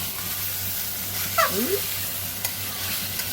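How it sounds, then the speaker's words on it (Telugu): Onions with ginger and garlic are stirred in a pan for a chicken masala, a steady sizzle with scraping spoon strokes throughout and a brief faint squeak partway through. "దీనికి మంచిగా ఈ అల్లం వెల్లిగడ్డలో ఉల్లిగడ్డల్లో బాగా కలుపుకోవాలి."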